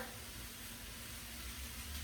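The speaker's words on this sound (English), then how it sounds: "Hear that little sizzle going on." Steady, quiet sizzling of chicken frying in hot oil for chop suey, a continuous crackling hiss with no voices.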